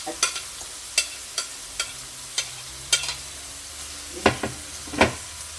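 Spicy duck bulgogi stir-fried with onion, carrot and other vegetables, a spatula scraping the pan in sharp, evenly spaced strokes over a soft sizzle, close and moderately loud, louder clatters near the end.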